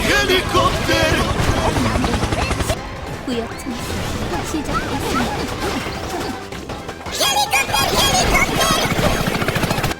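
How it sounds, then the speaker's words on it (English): Helicopter rotor sound in the video game Cookie Run: OvenSmash, a loud chopping drone mixed with crashes, whooshes and busy game effects that stay dense throughout. "Helicopter!"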